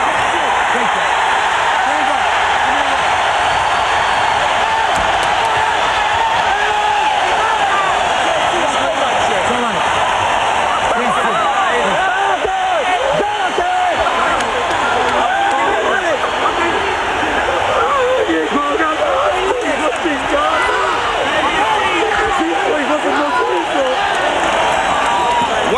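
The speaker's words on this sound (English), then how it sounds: "Let's get out and let the crowd react to this." A boxing arena crowd roars after a professional featherweight title fight ends. Dense, loud cheering and shouting hold steady throughout, a continuous wall of voices and applause with no distinct single speaker.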